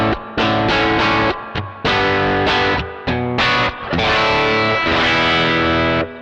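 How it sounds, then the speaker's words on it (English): An electric guitar is played through an overdrive pedal set for soft clipping, with warm, saturated chords and notes in loud, rhythmic bursts separated by short gaps, alone without voices. "This is soft clipping."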